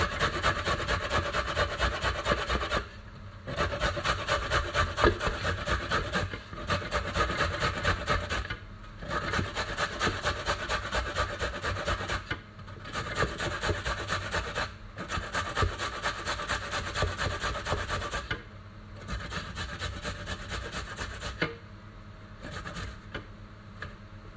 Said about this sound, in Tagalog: nabalatan na natin ang ating ginger. Ayan. Ngayon, kuskusin ko na lang siya lahat para bukas pagluto na lang.